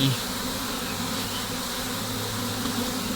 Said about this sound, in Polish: Delikatnie tylko odczepujemy pszczoły